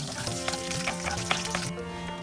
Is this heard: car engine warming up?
no